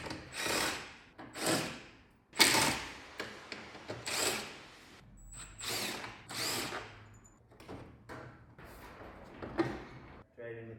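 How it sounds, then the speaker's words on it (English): Power drill used while stripping the front end of a VW Caddy 2K, heard in short repeated whirring bursts close by, with pauses and clatter between them and speech over parts of it. "I hate this drill."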